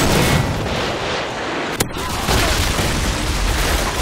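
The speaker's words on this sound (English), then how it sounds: "Friendly Predator missile inbound." Predator missile strikes in Modern Warfare 2 multiplayer, loud booming explosions and rumbling blasts filling the scene with a sharp crack near the middle, dense and continuous.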